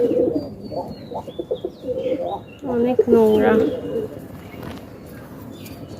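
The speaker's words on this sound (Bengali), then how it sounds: "কবুতরের ঘরটা" Pigeons coo repeatedly in low, throaty phrases close by inside a pigeon house, while a person talks over them in short bursts.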